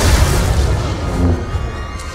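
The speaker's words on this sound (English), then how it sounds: "Warning. Critical explosions detected on the foundry level." Continuous heavy rumbling booms and blasts from an overloading generator explosion sequence on the foundry level of Ilum in Star Wars: The Old Republic, loud and sustained with dense low-end roar.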